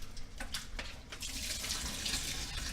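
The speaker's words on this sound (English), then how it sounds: "just go ahead and run some water so it doesn't burn the sink" Tap water runs steadily into a kitchen sink where pasta is being cooked, a continuous close hiss of flowing water with some clattering early on.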